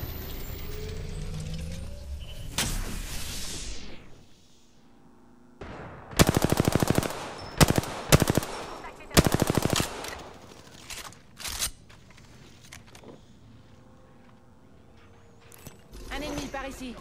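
Machine-gun bursts in a video game: several sharp, loud volleys of rapid automatic fire separated by short gaps, with quieter mechanical clicks and reload sounds in between.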